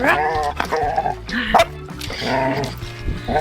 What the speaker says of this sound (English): Hi, puppies.